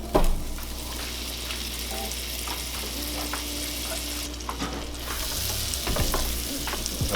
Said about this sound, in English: go ahead and drop down a whole stick of non-salted butter